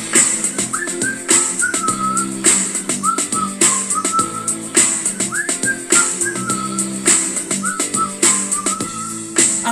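A bright, catchy whistled melody from a cover repeats in short rhythmic phrases over a steady backing beat, loud and clear throughout.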